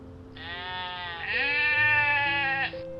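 Goats bleat close by, a long wavering cry that swells and holds for about two seconds, loud and alone with no talking.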